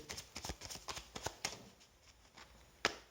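A deck of 32 playing cards is handled in a quiet room, giving a quick run of crisp flicks and snaps, then a short pause and one sharper card slap at the end.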